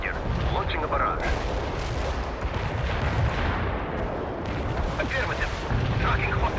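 Artillery barrage in the video game World in Conflict, a dense, continuous rumble of booming shell fire and explosions that stays loud throughout, with faint voices mixed into the din.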